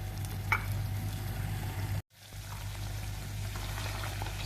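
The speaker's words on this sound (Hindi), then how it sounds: "सूजी माशाल्लाह से अच्छे से भुनी जा रही है" Semolina is roasted and stirred in a pan for suji halwa, making a soft, continuous sizzle and scraping texture over a low background hum, briefly cut out by a momentary drop before resuming at the same even level.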